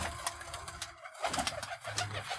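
A pigeon at a loft gives low, soft coos through steady rain-like background noise, fairly faint and with no talk over it.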